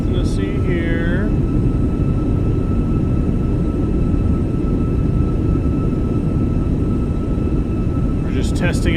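A jet airliner's thrust reversers roar in Microsoft Flight Simulator 2024, a loud, unbroken broadband rush that holds steady throughout, with brief chirping tones near the start and end and voices present.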